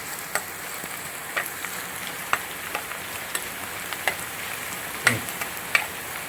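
Chopped shallots fry in a pan for a kovakka curry, a soft steady sizzle broken by scattered light ticks and scrapes of stirring, faint and close with no talk.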